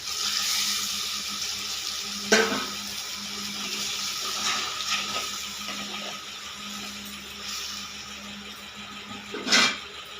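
Water is poured into a pan of masala brinjal curry, giving a steady running splash with a couple of sharper clanks or pours, heard alone with no talk.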